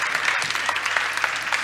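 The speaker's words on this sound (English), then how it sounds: "A final round of applause for Julieta Martinez." A final round of applause at a climate change summit: brisk, dense clapping from a sizeable audience, close and steady for the whole short stretch.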